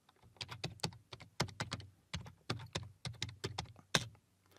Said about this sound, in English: So I'm going to type install module